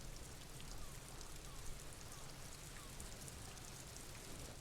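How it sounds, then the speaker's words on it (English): Steady rain falling in the video game Disco Elysium, a dense even hiss with no breaks and no voices over it. "The rain started when the text mentioned it."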